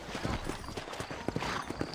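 Horse hooves clip-clop in a steady, quick rhythm as a rider sets off in the Red Dead Redemption video game, close and fairly loud over a faint bed of game ambience.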